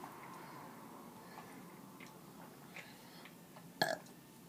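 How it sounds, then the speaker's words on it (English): A single loud burp after gulping down soda, short and close, standing out near the end of a quiet stretch of room noise. "Stop burping."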